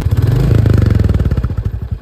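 A 2024 Royal Enfield Bullet 350 single-cylinder motorcycle engine revs up close by. It gives a loud, rapid, steady thumping beat that eases and loosens toward the end.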